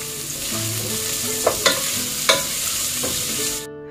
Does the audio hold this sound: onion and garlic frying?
yes